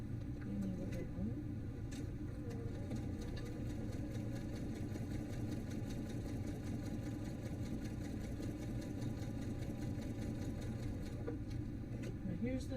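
A home sewing machine stitches fabric at a quiet, steady, rapid pace, a soft mechanical whir with faint ticking that runs unbroken throughout.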